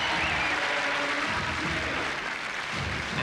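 Large TV studio audience at a Gladiators arena show clapping together, a dense, steady wall of applause filling the space with a loose shared rhythm, loud and close throughout.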